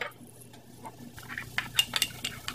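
A spoon stirring ground dry mustard and coarse salt together in a small dish, light scraping and clinking taps in quick irregular bursts, close and fairly soft.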